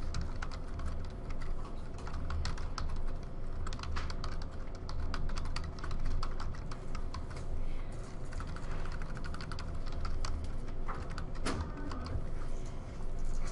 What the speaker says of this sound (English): I'm going to type the title, Keyboarding Applications Standard and Objectives.